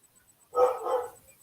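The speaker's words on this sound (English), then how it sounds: "I now have my dog barking like a maniac" A pet dog barks loudly indoors in a single gruff burst of rapid barks, close and dominant, with a faint periodic beep in the background.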